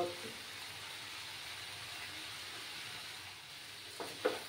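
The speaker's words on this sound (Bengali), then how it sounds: "দেখো বন্ধুরা, মশলাটা প্রায় কষে গেছে" Spice masala sizzles steadily while being fried in a pan, a continuous soft hiss with a couple of brief clinks near the end.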